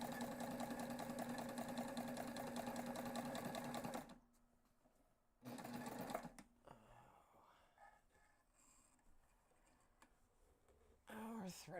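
Sewing machine stitching a backpack, a dense fast whirring run that cuts off, restarts briefly, then gives way to quiet handling noises and light clicks before the motor starts again at the end.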